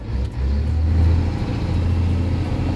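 A Scania 124 truck's diesel engine idles low, then briefly revs up and settles back, a couple of throttle surges over the steady rumble.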